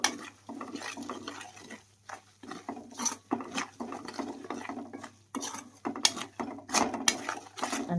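Masala is stirred and scraped in a pan for a korameenu fish pickle, giving irregular clinking and scraping strokes at a moderate, close level, with no talking.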